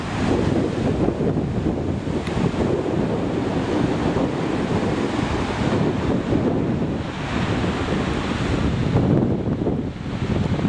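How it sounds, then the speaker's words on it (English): Rough ocean surf crashes without a break under strong wind, a loud, dense wash of breaking waves with wind buffeting the microphone and no voices. "Surf looks like it's a little riled up."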